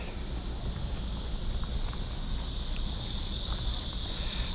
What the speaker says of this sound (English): the sound of cicadas is almost deafening at times.